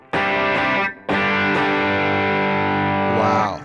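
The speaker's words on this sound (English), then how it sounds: "you can hear I have a fair amount of overdrive, which again is a lot" Electric guitar with heavy overdrive and the delay and reverb switched off, ringing sustained chords that cut off briefly once, then hold and slide at the end, loud and close.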